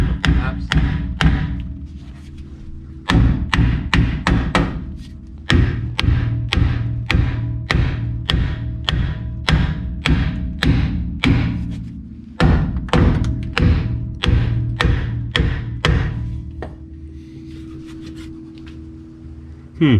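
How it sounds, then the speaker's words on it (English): Repeated heavy metallic hammer blows on a stuck brake of a 1949 Plymouth Special Deluxe, struck in quick bursts with brief pauses, loud and close, with no talking. "So we did some convincing here with the hammer and it didn't get us anywhere"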